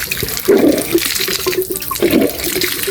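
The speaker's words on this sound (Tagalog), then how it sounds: "Grabe yung tubig, oh. Lakas, oh." Strong flow of water gushing at a house under construction, a loud continuous splashing rush that swells in brief surges, heard alone without talk.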